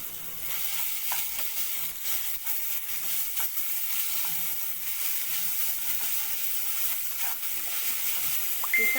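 Garlic, ginger and chopped tomato sizzle steadily in hot oil while being sautéed for matar paneer, a continuous bright crackling hiss with occasional spatter pops and no talk.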